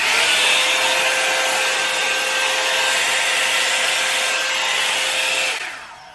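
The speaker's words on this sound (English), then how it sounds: "It's a normal blow dryer." A Revlon hair dryer with its head removed whirs with a constant airy roar and faint whine, running evenly before cutting off near the end.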